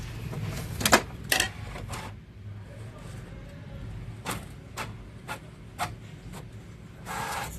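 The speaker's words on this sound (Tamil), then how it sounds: "இப்போ பிரிண்ட் வரும் பாருங்க" Brother MFC-T4500DW inkjet printer printing a page, with whirring feed motor, clicks and mechanical clacks of the paper path in a quiet room.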